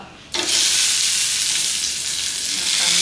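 Dried red chilies and dry coconut sizzling in a hot pan, a steady loud crackling hiss that starts abruptly and continues without talk.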